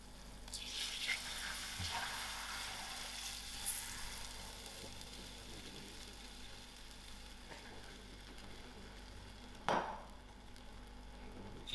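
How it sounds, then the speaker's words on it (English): Pineapple pickle masala with syrup stirred in a pan, a soft steady sizzle running throughout, with a few faint scrapes and a sharp clink of the spoon near the end, no talk. "I'll keep stirring because I wouldn't want this to form lumps"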